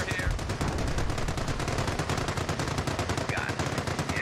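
Dense, continuous gunfire and machine-gun bursts in a World War II battle at Cherbourg in the strategy game Company of Heroes, a steady loud barrage with no pauses.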